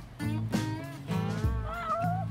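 Several meows from Brittany, the top cat at the Yakuza 6 cat cafe, rising and falling in pitch, close and clear over faint in-game background tone.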